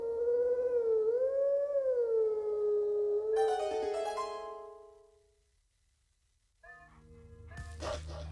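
A wolf howls at the Howling Stone in a Zelda video game, one long wavering howl rising and falling, followed by a quiet pause and then brief game tones and effects.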